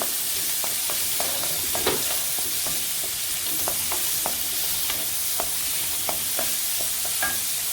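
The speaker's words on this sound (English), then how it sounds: "put in all my vegetables in there. And let those saute off a little bit" Mixed vegetables sautéing in hot oil for a quick fried rice, a steady close sizzle broken by repeated scraping and stirring knocks, with no talking.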